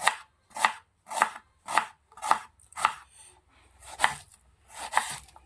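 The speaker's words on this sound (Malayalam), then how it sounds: "അടുത്ത നമ്മൾ സവോളയാണ് അരിയുന്നത് ഇതും ക്യൂബായിട്ട് തന്നെ അരിഞ്ഞെടുക്കണം" A knife chops an onion into cubes on a cutting board, about nine crisp strikes in an even rhythm, close and clear with no talking.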